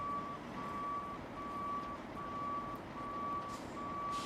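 Steady rhythmic reversing beeps from a heavy work truck in the Roadcraft game on hard mode, six evenly spaced tones over a constant low diesel engine rumble near a railway bridge.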